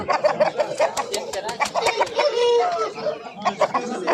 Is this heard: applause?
no